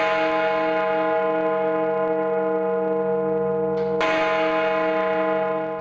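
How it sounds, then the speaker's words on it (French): Big Ben, the great 13-tonne bell in London's clock tower, resonates at close range with a deep, sustained, ringing hum, then is struck again with a sharp clang that renews the loud, lingering tone. "Dans quelques secondes va résonner la cloche la plus célèbre du monde."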